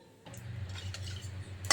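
Shredded cabbage being stirred with cumin in a pan for a prawn and cabbage dish, soft scraping and clinking of a utensil against the pan over a low steady hum, close by.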